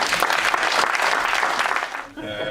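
Applause from a room of mayors at a regional council meeting greets a prefect elected by acclamation. It is loud, dense and sustained, then cuts off abruptly near the end, leaving a faint tonal background.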